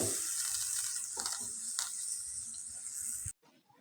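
Whole ginger and garlic cloves frying in a pan while a paneer dish is cooked, giving a steady, soft, hissing sizzle with a few faint stirring clicks that stops abruptly near the end.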